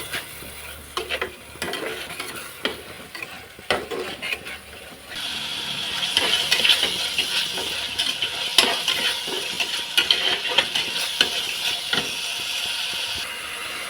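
Masala frying in a pan while being stirred, a close sizzle and hiss with repeated scraping and clinking stirs, growing steadier after the first few seconds, with no talking.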